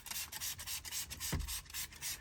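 Diluted Green Star cleaner going onto a dirty car seat gives a series of short, soft, hissy strokes in a fairly regular rhythm, heard up close and fairly quiet, with one duller thump midway.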